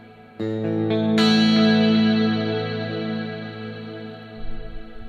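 Clean electric guitar chords through a Fractal VP4 shimmer reverb ring out with a long, shimmering tail that swells and lingers after each strum.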